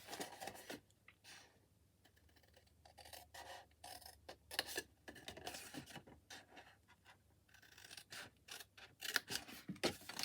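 Scissors cut card along its score lines, producing close, crisp snipping and rasping strokes in irregular bursts separated by brief quiet pauses, with faint handling rustles between cuts.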